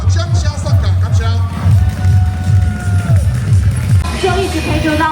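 A crowd cheers and applauds outdoors to send off a Mazu temple procession during a Lantern Festival pilgrimage in Taiwan, a dense continuous roar with whoops and a loud rhythmic drum pulse underneath.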